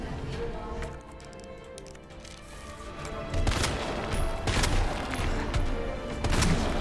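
Gunfire in the video game Resident Evil 2, a series of sharp shots that become denser and louder in the second half, over continuous game background noise.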